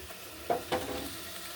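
Paneer curry with whisked yogurt stirred in a frying pan: two brief spoon scrapes close by over a faint, steady sizzle.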